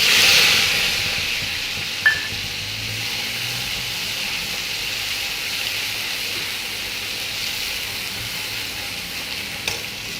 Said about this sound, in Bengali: এবারে এই বাটা মশলাটা দেব, টমেটো আর কাঁচা লঙ্কা